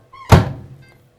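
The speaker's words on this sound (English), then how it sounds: "So it's going in the microwave." A microwave door shuts with one solid, close thunk as a dish of butter goes in to melt, followed by a brief fading rattle and a faint beep-like tone.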